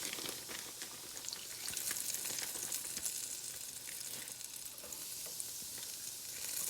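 Dandelion fritters, dusted in flour, sizzle and crackle steadily in hot frying oil, a dense, continuous hiss at moderate level with no talking.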